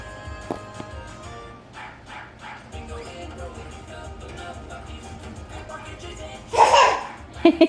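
A young girl imitates a dog's bark with her voice, giving a few short yips amid adult talk and cheering, followed by a louder excited burst near the end.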